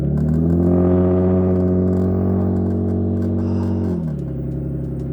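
A 1991 Mercedes-Benz 300CE drives along with a smooth, steady engine hum and road rumble, the tone holding level before easing lower near the end, heard close from inside the car.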